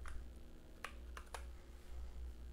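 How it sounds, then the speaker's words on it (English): A handful of quick, quiet keystrokes on a computer keyboard as a two-factor authentication key is entered, sounding as sparse clicks over a faint low hum with no talking. "Go ahead and type that in."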